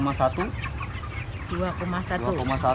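Chickens on a poultry farm cluck in short, close bursts, several overlapping calls at the start and again toward the end, with a quieter gap between.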